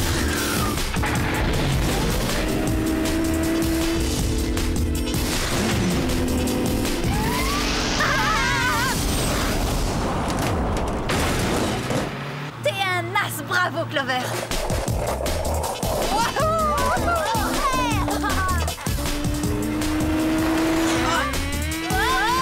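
A cartoon car fitted with a jet engine kicks into turbo mode, a loud roaring rush with rising whooshes over a busy animated soundtrack, while characters talk over it.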